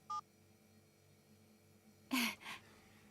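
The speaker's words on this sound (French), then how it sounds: "J'appelle ton téléphone et on attend de voir où il sonne." A single short telephone dialing beep from a children's animated tractor cartoon, heard once at the start, followed about two seconds later by two brief breathy bursts.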